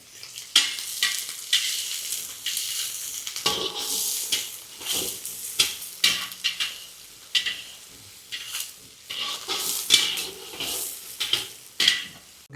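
Goat tripe (boti) cooks in oil with softened onions in a pan, giving a bright continuous sizzle broken by repeated stirring scrapes and light clinks of a utensil on metal; close, with no talking.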